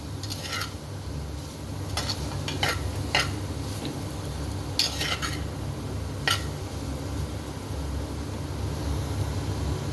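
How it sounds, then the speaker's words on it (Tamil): Chow chow poriyal with ground coconut stirred in a pan, with scattered light scraping clicks of a spoon against the pan over a low, steady background hiss. "அந்த தேங்காய் அரைச்சதை அதை சேர்த்து நம்ம நல்லா மிக்ஸ் பண்ணிக்கலாம்"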